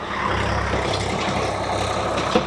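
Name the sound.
Swaraj four-wheel tractor running with rotavator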